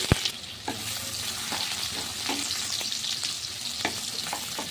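Chopped onion, garlic and green chilli fry in oil as a tempering, with a close, continuous sizzle broken by repeated scraping stirs of a spatula in the pan.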